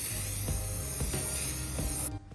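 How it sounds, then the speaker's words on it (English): Steady hiss of spray paint sprayed continuously onto a vase for about two seconds, with faint clicks and knocks underneath, then cutting off abruptly. "You just spray as you go."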